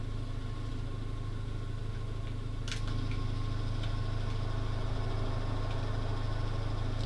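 A steady, low idling engine hum carries throughout, the old farm engine running evenly after starting with a couple of cranks, plus a few faint clicks on top and no talk.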